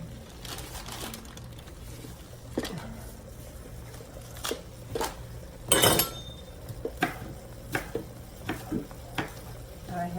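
Stuffing mixture stirred in a pan, with a faint sizzle underneath scattered spoon scrapes and clinks against the metal, including one louder rattle partway through.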